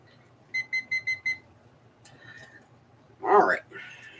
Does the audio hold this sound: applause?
no